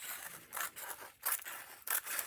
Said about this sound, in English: I am going to trim two sides though.